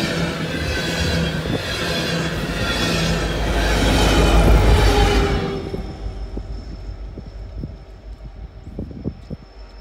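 A BNSF freight train pushed by an EMD SD70ACE locomotive rolls through a blizzard on the Chillicothe Subdivision, a loud near roar of rolling cars and wind that fades partway through, leaving rhythmic wheel clicks over the rails.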